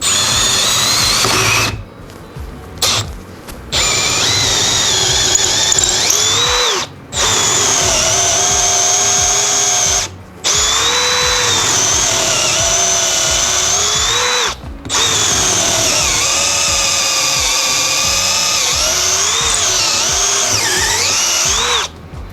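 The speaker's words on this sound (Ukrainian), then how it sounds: "зразу почнемо з дубової дошки та 10-го свердла" A Milwaukee M18 CBLPD-422C cordless impact drill whines at high speed, boring a 10 mm bit into an oak board, running long stretches with a few brief stops and restarts, loud and close.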